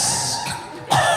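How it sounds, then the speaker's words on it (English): A single audience member coughs once, sharp and fairly close, in a comedy club during a stand-up set, after a brief lull of room noise. "That was a cough."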